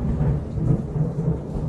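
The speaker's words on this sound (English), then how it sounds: "Thunder." Low thunder rumbles continuously, deep and heavy, with a faint hiss of rain underneath and no voices.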